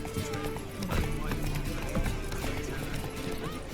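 Clip-clop hoofbeats of a horse galloping in The Witcher 3 video game, a steady drumming rhythm with a brief whinny, set against busy in-game ambience and a voice.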